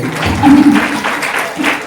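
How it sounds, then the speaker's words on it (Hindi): A congregation at a Hindi-language church service gives a short burst of clapping, lasting about two seconds over faint room noise and a brief voice. "तालियां बजाओ मेरे लिए।"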